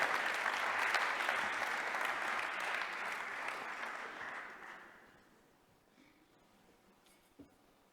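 Audience applause for the mayor at a French awards ceremony for a cycling-friendly cities ranking, a broad steady roar of many hands that gradually thins and fades out after about five seconds, leaving near silence and a single faint knock.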